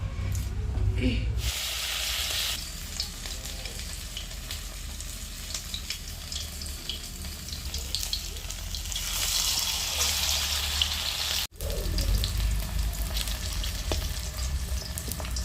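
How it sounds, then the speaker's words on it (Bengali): Rice-flour boras, fritters fried in oil, give a steady, close sizzle with bubbling and occasional stirring. It runs continuously with a brief break near the end. A faint voice may be heard in the background. "চলো বড়াগুলো ভাজা শুরু করে দিই"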